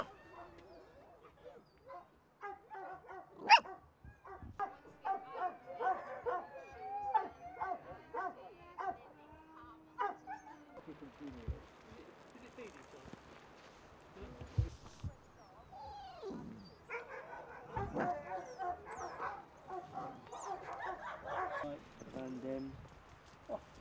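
Racing huskies at a kennel in Britain bark, yip and whimper in quick irregular bursts, some close and sharp, others overlapping into a noisy chorus.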